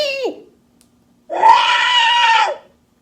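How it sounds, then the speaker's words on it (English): A Jawa costume voice device fires its scream effect: a shrill, warbling, high-pitched electronic shriek lasting about a second, close and loud, after a short sound at the start. "Trigger number 6 is a scream."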